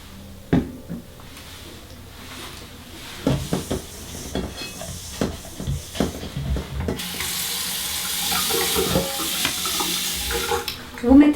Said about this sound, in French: Vous mettez de l'eau tiède